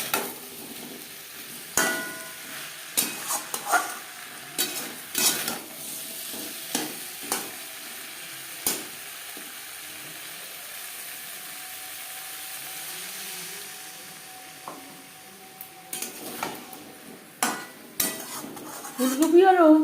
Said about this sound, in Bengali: আলু ও মশলার সাথে ফুলকপি বেশ ভালো করে মিক্স করে দেবো।